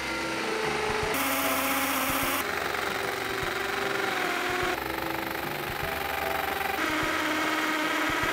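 A power drill fitted with a 1.5 inch spade bit bores into birch wood, a steady continuous grinding whir with shifting pitch as the bit cuts, close and loud throughout with no talking.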